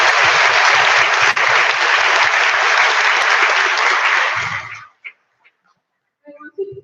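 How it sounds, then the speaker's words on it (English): Loud, dense applause from a graduation ceremony audience fills the first five seconds, then cuts off to near silence with a few faint scattered sounds at the end. "may we give a big round of applause to congratulate the graduating class of"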